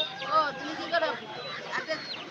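Geese at a poultry market in Uluberia give a few short, nasal honking calls, close by and fairly quiet, with voices faint in the background.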